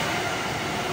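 A train rolling along a railway line beside a roadside secondhand shoe stall in Bojonggede, a steady dense rumble filling the whole moment, close and loud, with no voices.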